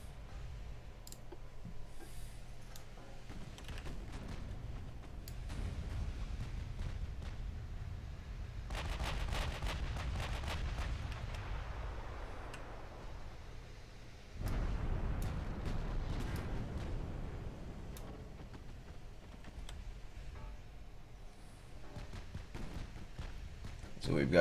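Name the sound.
warship main guns firing, from video game Ultimate Admiral: Dreadnoughts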